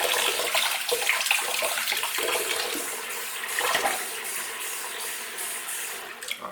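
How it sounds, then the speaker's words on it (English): Hot water runs steadily into a bathroom sink for rinsing a razor during a beard shave, a continuous close splashing hiss with no talk. "I keep hot water in my sink to rinse my razor off as I shave."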